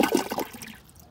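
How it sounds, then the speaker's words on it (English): A toilet flushing at close range, a short loud burst of rushing water that quickly fades into a softer trickle. "I'm gonna flush this."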